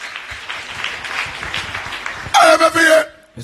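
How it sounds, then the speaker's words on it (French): Church congregation applauding at length in a diffuse crowd wash, then a louder close burst of cheering and shouting voices near the end before it cuts off. "Si c'est pour le Seigneur, acclamez fort."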